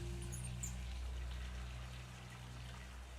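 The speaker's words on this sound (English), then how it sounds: "Turn the faucets so that all the water flows to the center." Water runs steadily from faucets in the True Fear: Forsaken Souls horror game, a continuous close pouring stream that eases slightly toward the end.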